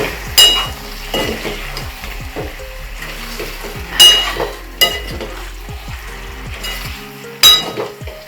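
Korramenu fish sizzles in an oil pan as it is stirred, with soft frying hiss under repeated sharp clinks and scrapes of a utensil against the pan in irregular bursts.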